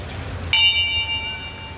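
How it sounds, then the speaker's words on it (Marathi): A single bell is struck once and rings on with a clear, sustained metallic tone that slowly fades, heard during a May visit to a village. "बघा घंटा."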